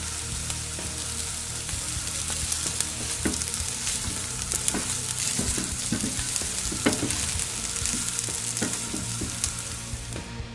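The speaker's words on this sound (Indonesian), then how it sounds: "Jadi ini namanya blanching, tapi menggunakan minyak." Potato pieces blanching in hot frying oil in a kitchen give a steady, dense sizzle with crackles and spitting pops, close and continuous with no voices over it.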